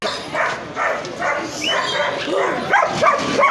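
A dog barks and yelps amid busy, noisy outdoor background chatter at a bird market, the barks growing more distinct toward the end.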